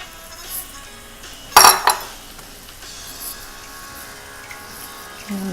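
A pot of jambalaya with seasoning being stirred, mostly quiet with soft scraping, then one loud metallic clank of a spoon against the pot midway, faint clinks before and after.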